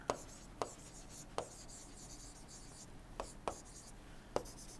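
Equations are handwritten during a thermodynamics lecture, with a low hiss of strokes punctuated by about half a dozen distinct, fairly sharp taps spaced irregularly, close and quiet.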